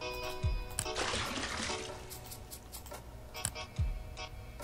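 Water being poured onto plants in a cannabis-growing video game, with splashing, trickling bursts that come and go over a faint steady background tone.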